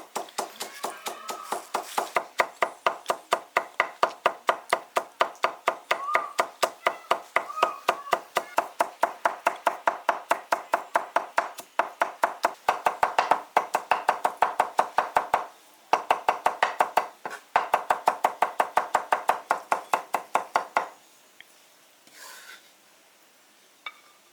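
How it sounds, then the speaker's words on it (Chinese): A knife chops garlic on a board to make a sauce for five-spice braised pork liver. Brisk, steady chopping knocks repeat rapidly and loudly for about twenty seconds, with a few short pauses before they stop. "先把大蒜剁碎。"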